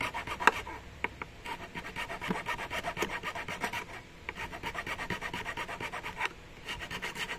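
Hand file rasping the end of a custom air intake hose on a turbocharged Proton Exora Bold, a dense run of rhythmic back-and-forth scraping strokes, close and fairly loud, with a brief pause near the middle.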